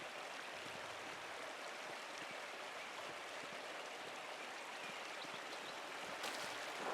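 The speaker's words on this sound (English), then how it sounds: "Waterfall must flow down from the snow melt in the mountains above the abbey" A waterfall in the video game Pentiment, fed by mountain snow melt above an abbey, rushes in a soft, steady, continuous hiss with no voices.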